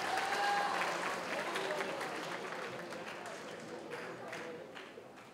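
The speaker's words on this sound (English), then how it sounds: "How about a round of applause for our judges working hard for you?" A school talent show audience gives a round of applause for the judges, a fairly faint, dense spread of clapping that gradually thins out and fades across the stretch.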